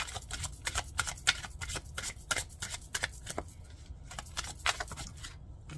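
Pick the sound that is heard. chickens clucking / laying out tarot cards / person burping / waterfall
laying out tarot cards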